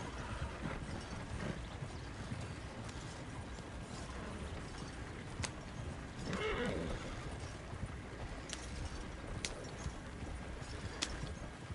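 In the video game Red Dead Online, a horse whinnies over steady galloping clip-clop hooves, with faint game mechanisms and occasional sharp clicks in the background.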